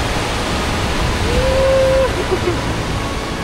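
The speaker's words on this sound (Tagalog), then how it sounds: "Malakas ang tubig!" Heavy rushing water roars steadily at Wawa Dam in the Philippines, loud and close, with a brief tonal squeal partway through.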